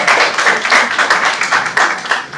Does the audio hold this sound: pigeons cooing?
no